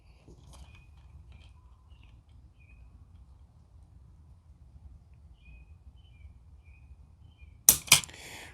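Two sharp metallic clicks near the end of a quiet stretch as the hammer falls on snap caps in a Smith & Wesson Model 10-5 snub nose revolver being dry fired, each loud and close against a low background hum.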